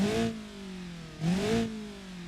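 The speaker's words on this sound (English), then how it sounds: "Now listen to what it sounds like in the back when I rev it." A car engine in the BeamNG game, heard from the rear, revs twice: each rise climbs in pitch and then sinks back, with a low droning idle between the two bursts.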